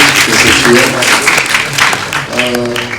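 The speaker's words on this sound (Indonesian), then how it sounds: "tepuk tangan buat kelompok ini dulu" A Grade 11 class applauds a student group after a debate presentation, a dense burst of clapping from many hands, with voices talking over it.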